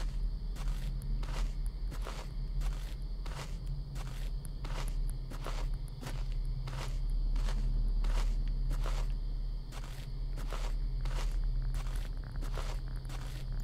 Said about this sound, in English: I hear the footsteps.